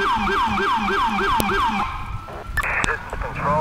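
NYPD-style police cruiser siren in Grand Theft Auto IV, a deep cycling wail sweeping rapidly for about two seconds before cutting off, followed by sharp clicks and brief in-game noises.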